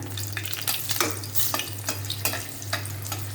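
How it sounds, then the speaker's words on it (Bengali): Chilies frying in hot oil in a home kitchen, a steady crackling sizzle with sharp bursts of spitting, close and fairly loud, over a constant low hum. "এখন তো তেলের ভিতর হচ্ছে মরিচ"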